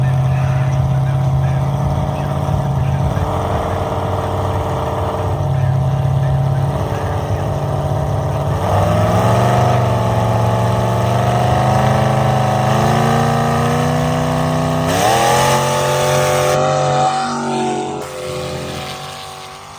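A diesel drag buggy roars down a dirt drag strip, its engine note loud and sustained, climbing in pitch through the run and fading slightly at the end as voices talk over it.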